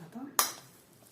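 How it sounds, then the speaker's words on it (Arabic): Shredded chicken and potatoes get mixed in a wide bowl, with a sharp clatter of a utensil against the dish followed by faint scraping and a second knock at the end, close and fairly quiet. "نخلط هذاك الدجاج اللي وسته بالاشوار مع البطاطا"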